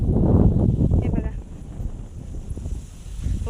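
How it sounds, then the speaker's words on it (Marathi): Strong wind blows across an open outdoor spot near a farmhouse and village, buffeting the microphone with a low, rumbling roar that surges loudest at the start and then eases into steadier gusts. "वारा पण भारी सुटलाय,"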